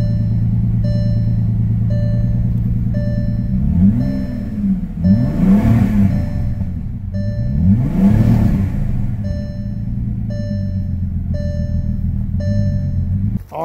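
A salvage Bentley Flying Spur engine runs steadily close by, swelling through two strong revs in the middle before settling back to idle, with a steady warning chime beeping throughout.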